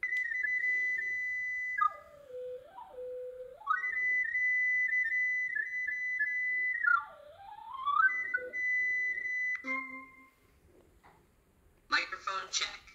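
A Sony Aibo ERS-7 robot dog emits a continuous electronic tone that glides down and back up in pitch as a hand moves toward and away from its chest distance sensor, with a few short beeps and a burst of noise near the end.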